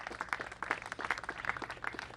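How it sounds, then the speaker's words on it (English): A press conference crowd applauds, many hands clapping in a brisk, continuous patter at moderate volume. "Give him a big round of applause."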